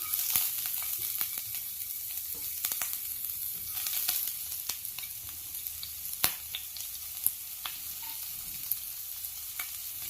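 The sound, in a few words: chopped onions frying in hot oil in a wok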